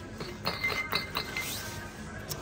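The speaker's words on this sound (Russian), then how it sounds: "Слышите, это стекло." Glass tapped by hand gives a series of light, bright clinks, spaced irregularly over a faint steady background hum.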